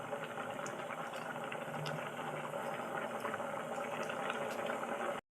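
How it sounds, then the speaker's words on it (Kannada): Maggi noodles boil in a pan, giving a steady, even bubbling hiss that carries on close and unbroken before cutting off abruptly at the end. "ನೀವು ನೋಡ್ತಾ ಇದ್ದೀರಾ ಕುದೀತಾ ಇದೆ ನೋಡಿ"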